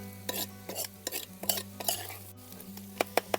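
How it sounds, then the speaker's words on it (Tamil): Black country chicken coated in masala is stirred in a pan, a utensil scraping and clattering in irregular strokes close up over a faint sizzle, ending in three sharp metallic taps; no talking. "நல்லா மிக்ஸ் பண்ணணும் எல்லா மசாலா."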